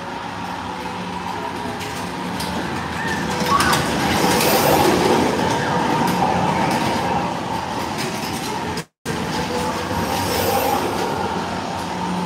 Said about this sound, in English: Well, here comes the train.